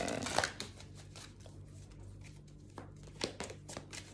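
Tarot cards are shuffled and drawn in a quiet room, producing soft riffling bursts and scattered light flicks and taps, close and fairly faint.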